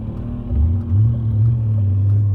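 Deep bass note from a BMW E39 M5 engine while driving, a low, steady rumble that swells briefly as the car pulls, heard close and alone.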